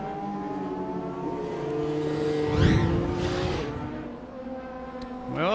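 IndyCar race cars at speed on a road course, engines screaming past near a braking zone with a loud pass-by swell in the middle, then fading and another car approaching at the end.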